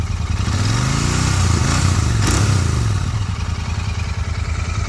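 A Royal Enfield Continental GT 650 with a loose silencer revs up and settles back, a loud close engine drone with a faint clattering edge under the exhaust note.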